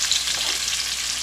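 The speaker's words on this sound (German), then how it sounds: "Nun geben Sie das Gemüse dazu und garen das dann durch." Zucchini and other vegetables frying in a pan, a steady, close sizzle with no voices and a small clatter at the very end.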